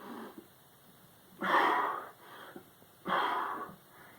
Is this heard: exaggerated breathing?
yes